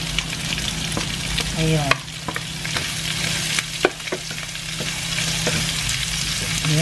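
Ginger and garlic sautéing in a pan, with steady frying sizzle and intermittent stirring clinks and scrapes throughout, plus a brief voice near the start.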